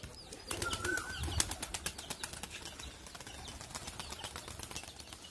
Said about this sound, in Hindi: कुछ कबूतर अपनी मर्जी से उड़ गए तो अच्छी बात है यार